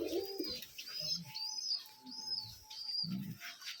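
Pigeons coo in a loft, soft repeated low coos alternating with faint higher chirps, close and quiet, with no voices.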